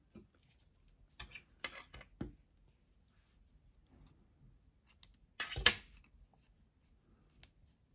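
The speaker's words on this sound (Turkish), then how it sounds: "Beyaz ipliği kesiyorum." Scissors snip through white thread during a crochet project, heard as a few sharp close clicks and snips in otherwise quiet surroundings, with a louder cluster of cuts near the end.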